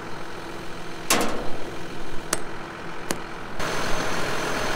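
A mowing vehicle's engine idles with a steady, close low rumble, broken by a few sharp metallic clicks and knocks.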